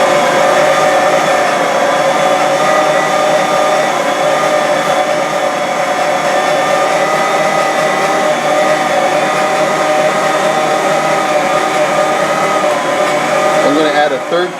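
An electric mixer runs steadily as it kneads bread dough for monkey bread in a bowl, a loud, constant motor whine and hum that holds without a break.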